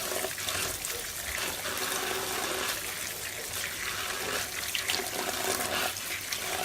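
Tap water runs steadily over soursop fruit being rinsed in a kitchen sink, a continuous splashing hiss with no pauses, close and moderately loud.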